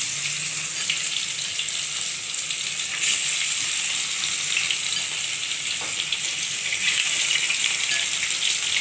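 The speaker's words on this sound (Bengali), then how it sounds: "এখন আমি মাছটা ছেড়ে দিলাম" Pieces of fish slid one by one into smoking-hot oil, giving a loud, steady sizzle with a brief louder flare as each piece hits, the hiss continuing close and unbroken without talk.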